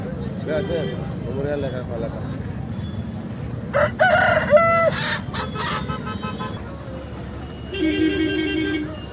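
A country rooster crows once, loud and near, over a busy background of birds and murmuring voices at a poultry market in Anantapur.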